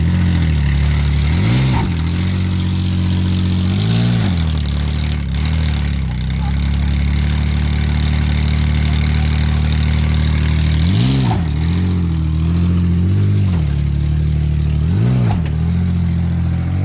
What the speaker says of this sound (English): Put it in and out of drive and reverse.